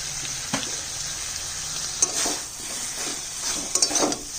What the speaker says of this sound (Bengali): এবার দিয়ে দিচ্ছি একটু তেল সর্ষার তেল কাঁচা তেল দিয়ে দিচ্ছি